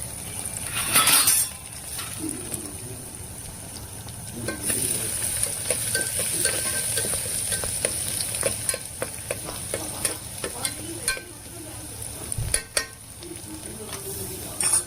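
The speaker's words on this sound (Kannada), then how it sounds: "ಕರಿಬೇವಿನ ಸೊಪ್ಪು ಹಾಕ್ಕೊಂಡು ಇದಕ್ಕೆ ಬೆಳ್ಳುಳ್ಳಿ ಹಾಕೊಳ್ತೀನಿ ರೀ" Curry leaves and garlic sizzle and fry in hot oil in a pan for palak sambar, a steady close crackle broken by occasional stirring scrapes and clinks of a utensil against the pan.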